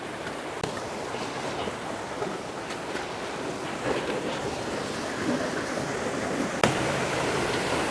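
Mill Creek Falls in Big Tujunga, a steady rushing roar of falling water, close and continuous, with occasional light knocks.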